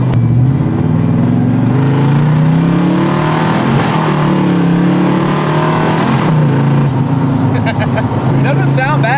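A Chevrolet Camaro with a freshly fitted aftermarket carburetor revs and pulls while driving, a steady loud engine drone surging in pitch over several seconds, with someone talking over it.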